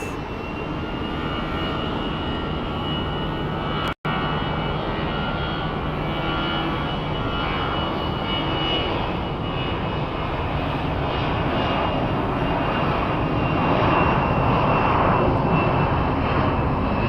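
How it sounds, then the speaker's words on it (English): A Boeing 777 jet airliner at Phoenix Sky Harbor International Airport produces a loud, steady engine roar that holds for the whole stretch and swells slightly toward the end, with one brief interruption early on. "we are going to pay attention to the 777 that's headed to Memphis"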